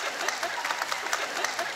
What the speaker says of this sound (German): Bitte jetzt klatschen.